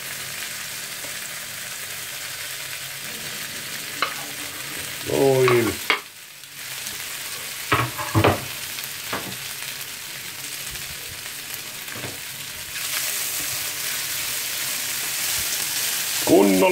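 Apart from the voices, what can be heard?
sausages frying in a pan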